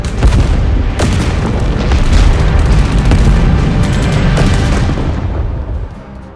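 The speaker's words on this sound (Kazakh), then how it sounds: "Гранаталар жарылып," Grenade explosions in a battle scene from a film about the Afghan war, loud deep booms and rumbling blasts with scattered crackling hits, sustained for several seconds before fading.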